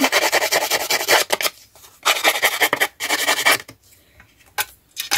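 Sheets of scrapbooking paper have their small edges filed, giving dry, rasping scrapes in quick bursts of strokes with short pauses between, close and fairly loud, with no talking.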